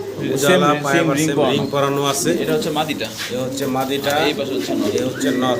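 Chila pigeons coo repeatedly in soft, throaty phrases at a wholesale pigeon market while someone talks over them nearby.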